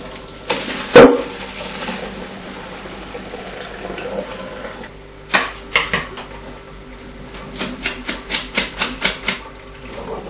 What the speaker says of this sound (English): Just drain it in the colander.